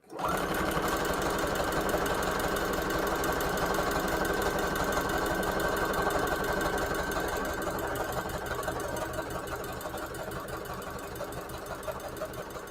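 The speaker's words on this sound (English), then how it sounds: "So now I've sewed around the edge." A sewing machine stitches steadily around the edge of a paper junk journal page, its fast rhythmic motor hum close and loud, running continuously without a pause and easing slightly near the end.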